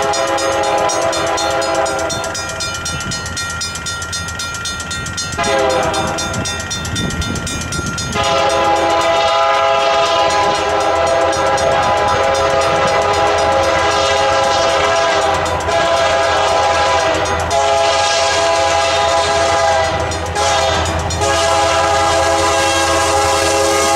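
Santa Fe locomotive BNSF 8250 leads a freight train past at close range, its loud horn sounding in long blasts over the heavy rumble of the engine and the rolling wagons.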